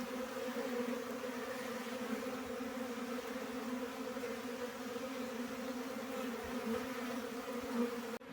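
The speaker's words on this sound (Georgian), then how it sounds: "ნახეთ რა დღეშია ფუტკარი" Honeybees in a beekeeper's hive during snowy winter, being fed honey, give off a steady, faint, even buzzing hum that continues unbroken with no voices.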